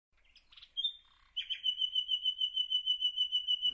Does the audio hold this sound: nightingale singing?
yes